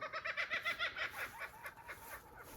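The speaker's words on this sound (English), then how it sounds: "Oh, morning kookaburra." A kookaburra calls on a farm in the morning, a run of rhythmic, cackling bursts that rise and fall in rapid pulses, fairly close and loud at first, then trailing off into quieter chuckles.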